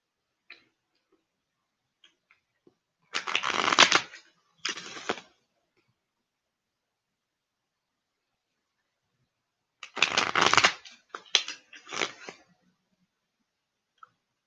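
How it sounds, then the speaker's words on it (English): Tarot cards are shuffled close by in two separate flurries of rapid papery riffling, with near silence between them. "Just shuffling"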